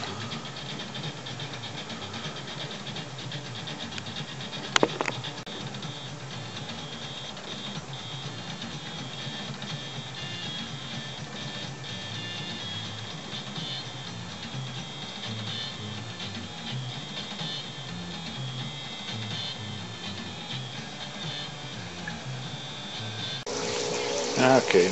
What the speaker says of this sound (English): now I'll go ahead and turn the pump back on, fill this up full of water